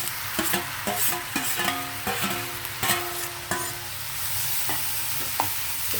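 Chopped onions with tomatoes and coriander fry in a pan, sizzling steadily. A spatula scrapes and stirs in quick, repeated strokes, then the clatter thins out and the frying carries on alone.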